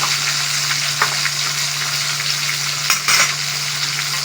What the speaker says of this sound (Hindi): हरी मिर्चें और हमने टमाटर इसके अंदर डाल दिया